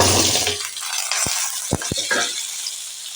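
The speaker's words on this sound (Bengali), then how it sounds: "এবার আমি ওলকপিগুলোকে ছেড়ে দিলাম।" Kohlrabi pieces dropped into about four spoons of hot oil in a wok set off a steady close sizzle, with a few sharp utensil clinks on the pan partway through and no talking.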